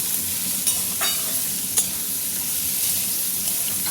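Salt, turmeric and chilli powder frying in hot oil while being stirred, with a steady close hiss of sizzling broken by a few sharp scrapes of the spoon against the pan.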